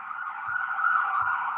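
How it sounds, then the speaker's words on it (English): An ambulance siren passing by, a steady wailing tone held clearly and at even loudness throughout, with faint low thumps underneath. "and there goes an ambulance."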